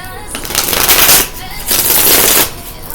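Tarot cards shuffled by hand in quick riffling bursts, two loud close rushes of crisp flicking separated by a short pause, with no talking during them.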